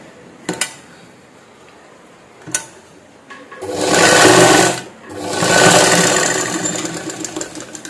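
A sewing machine stitches a blouse side seam in two close, loud bursts of rapid mechanical whirring, preceded by a few sharp clicks and quiet handling.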